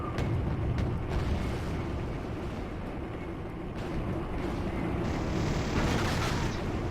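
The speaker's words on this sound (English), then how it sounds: "Big, pretty explosion." A large explosion rolls out in the Wargame AirLand Battle real-time strategy game, a loud, sustained low-end boom and rumble over about seven seconds with bursts of crackling debris and some higher hiss near the end.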